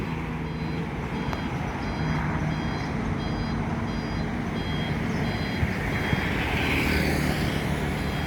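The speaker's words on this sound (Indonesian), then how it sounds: "Ada satu unit bus melintas" A bus on a Sumatran highway near Palembang rumbles past amid steady roadway traffic noise, with repeating high electronic beeps over the continuous engine drone.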